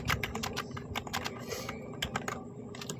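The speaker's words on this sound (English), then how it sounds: "let's try typing that out" Rapid typing on a computer keyboard while Python list code is entered, a steady run of close, crisp key clicks with no talk.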